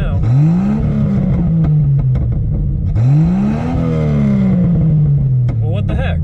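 Car engine running on vodka in place of gasoline, revved twice, each time climbing in pitch before easing back down, loud and close, with talk over it.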